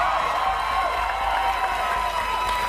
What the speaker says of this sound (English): Yeah, you're applauding